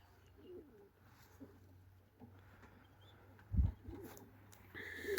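Domestic racing pigeons coo softly in a loft, a low faint murmur under steady background hiss, with a few brief rustles and a sharper knock midway.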